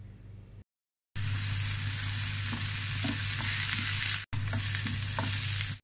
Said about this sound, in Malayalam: 1 സവാള ചെറുതായി അരിഞ്ഞത് കൂടി ചേർത്ത് നല്ലപോലെ വഴറ്റി കൊടുക്കാം